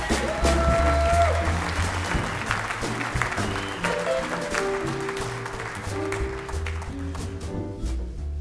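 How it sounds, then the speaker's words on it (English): Audience applause at a jazz orchestra concert: continuous, dense clapping from a crowd, mixed with low sustained musical tones and some voices underneath. "Don't give these guys too much applause"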